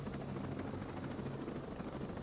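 A helicopter in Ghost Recon Breakpoint flies near a ridgeline and a futuristic helipad, its steady, dense rotor and engine rumble droning loudly and unbroken throughout.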